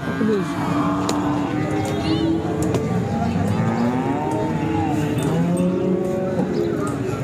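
HF cattle and calves at a crowded livestock market in Sangola call out with several drawn-out moos, near and far, over a busy background of voices and chatter.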